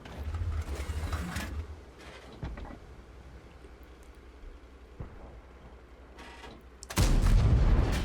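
Tank cannon shots in World of Tanks, Bourrasque tank battle: a sharp report near the start, a couple of fainter distant shots in the middle, and a loud heavy blast at the end.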